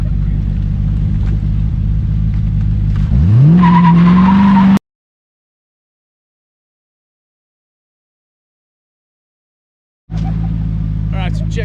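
A car's engine roars with the tires skidding and squealing as it does donuts, a rising screech cutting off abruptly, then the engine and tire noise returning after a long gap of silence.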